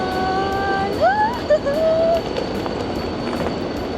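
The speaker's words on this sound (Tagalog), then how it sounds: "Maingay kasi yung train." Interior of a KTX high-speed train carriage, a steady broadband rumble filling the cabin throughout, with a few brief higher whines or squeals rising over it near the middle.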